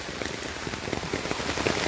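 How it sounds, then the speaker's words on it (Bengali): Rain falls steadily on a tea garden path, a dense, continuous patter of drops spread evenly across the short stretch with no voices. "দেখেন চা বাগান বৃষ্টির চা বাগান বৃষ্টির চা বাগানের দৃশ্য আপনারা দেখতে পাচ্ছেন"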